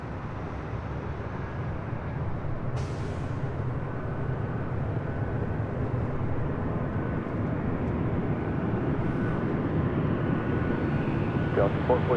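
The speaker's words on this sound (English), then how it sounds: "Flight to Honolulu now rolling down at 24 left" An airliner bound for Honolulu rolls down runway 24 left at LAX for takeoff, its engines giving a steady, building roar from a distance that persists throughout, with a voice speaking over it.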